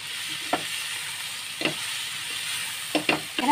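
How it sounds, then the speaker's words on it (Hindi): Bitter gourd (karela) and mixed vegetables frying in a pan over raised heat, a steady soft sizzle broken by a few brief scraping stirs, close and moderately loud, with no voices. "करेलों के साथ दो एक दो मिनट फ्राई करूंगी"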